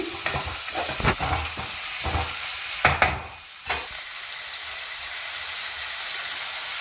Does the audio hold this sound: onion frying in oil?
yes